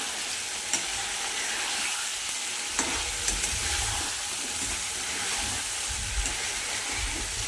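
Chicken curry masala frying in oil in a pan, with papaya curry being made: a steady, dense sizzle runs throughout, with occasional stirring scrapes and light clinks, close and continuous with no talk.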